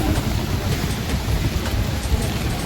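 Steady rain falls throughout during Chennai's rainy season, a dense continuous hiss with low rumbling texture and no voices.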